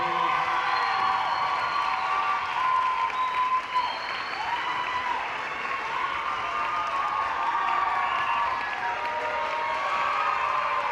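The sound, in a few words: audience applause for graduates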